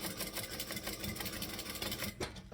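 A sewing machine stitches close to a fabric edge with a quick, even mechanical chatter of needle strokes, faint and near, before the stitching pauses briefly at the end.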